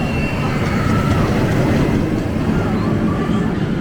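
A roller coaster train runs on its track at SeaWorld San Diego, a steady loud rumbling roar with faint rattling that holds without a break throughout, with no talk over it.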